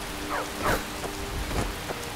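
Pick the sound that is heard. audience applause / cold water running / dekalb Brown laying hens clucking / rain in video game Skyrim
rain in video game Skyrim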